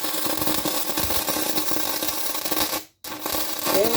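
Stick welding stainless steel with a 308-L15 rod and no flux, run as a long weaving arc, gives a steady broadband crackling hiss that drops out briefly near the end before resuming.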